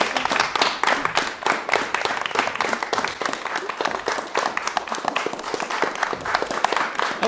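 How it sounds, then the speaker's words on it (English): Applause for the finalists of a composition prize, with a hall audience clapping in a lively, crackling patter of individual hand claps that keeps going steadily at moderate volume throughout. "Can I invite our other lovely finalists to the stage as well to also take a round of applause."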